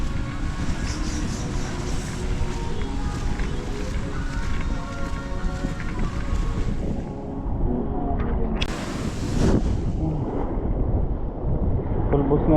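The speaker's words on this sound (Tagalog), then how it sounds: "Lakas yung alon." Strong ocean waves on Amana Beach at Little Boracay in Jomalig, Quezon, a steady loud wash with gusty wind on the microphone, a brief burst of surf near the end.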